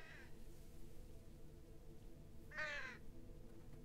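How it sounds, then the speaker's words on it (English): In the video game Cats and Other Lives, a crow gives a faint caw at the start and then a louder, clearer caw, both set over a quiet ambient background. "Hey, bird."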